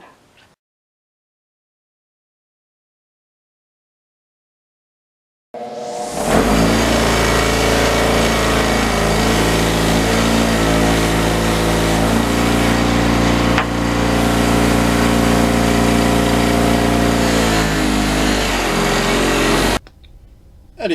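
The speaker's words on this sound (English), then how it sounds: "So we'll take this over to the buffing wheel and see if we can clean it up." Bench buffing wheel polishing an old aluminum Yoshimura sportbike muffler end cap: a loud, steady motor whine and grinding hum starts abruptly after several seconds of silence and runs continuously until cutting off near the end.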